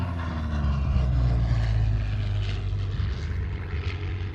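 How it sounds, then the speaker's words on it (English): A P-40 propeller warplane passes over an airshow crowd, its piston engine droning loud and steady with a deep rumble and a slight pitch shift as it flies by, sustained throughout. "Here comes the P-40."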